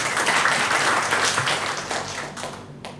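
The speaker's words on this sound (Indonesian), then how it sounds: "Tepuk tangan untuk kita semua." An audience of school supervisors at a formal gathering in Bali gives a burst of dense applause, loud and close for a few seconds before tapering off.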